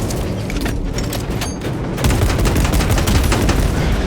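Loud, dense gunfire from the video game Space Marine 2, a sustained barrage of rapid shots and booming blasts that grows heavier halfway through, with no talking.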